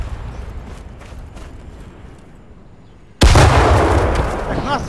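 A grenade bursts close by in Arma 3, a sudden loud, broadband blast that cuts in after a quieter stretch of low rumble and distant gunfire, then rings out with a long, noisy tail.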